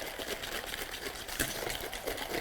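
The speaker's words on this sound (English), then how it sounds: "Just mix that until you can get that sugar dissolved." A Korean noodle sauce with sugar and a pinch of black pepper is stirred close up, a steady, busy clatter and swish of utensil against bowl that keeps going without pause and without talking.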